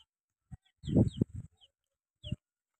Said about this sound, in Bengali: এই যে আমার পায়রা